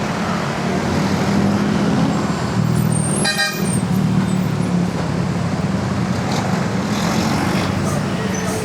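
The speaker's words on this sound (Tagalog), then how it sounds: "Ito yung pinakadelikado, yung malalaking sasakyan." Large vehicles roar through heavy Metro Manila traffic on a wide eight-lane road, a steady loud rumble with a short burst of horn honking midway, heard while cycling alongside.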